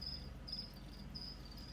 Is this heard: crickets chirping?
yes